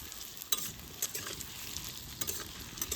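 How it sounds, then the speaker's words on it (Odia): Onions frying in hot oil over an outdoor wood-fired stove, a steady close sizzle and crackle with a few sharp spatula scrapes and clinks breaking through, no voices. "ପିଆଜ ପକେଇବା, ପକା ଦେଖିଆ ଗରମ ହେଇଛି ନା ନାଇଁ ଦେଖିଆ"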